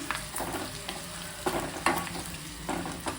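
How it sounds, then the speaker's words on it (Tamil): Tempering spices crackle and sizzle in hot oil for a South Indian sardine fish curry, a close, steady frying hiss with small popping bursts and stirring scrapes, with no voices. "புஷ்ஷுன்னு வரும் அந்த மாதிரி சவுண்டு வந்தால் தான் அந்த தாளித்து ஊற்றின டேஸ்ட்டே அப்படி இருக்கும்"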